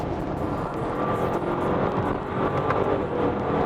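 A Bentley Bentayga V8 SUV accelerates on a highway, with a steady, full engine and road roar that stays constant throughout, heard without talk.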